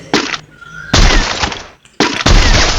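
Rapid bursts of video game gunfire shoot an enemy in a shooter match, loud broadband blasts in three main volleys with short gaps between them and no talk over the shots.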